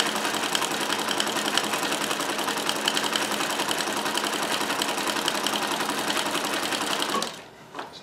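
A Necchi Supernova Ultra freearm sewing machine runs at steady speed stitching a ball stitch, its fast even mechanical chatter filling the room before stopping abruptly near the end.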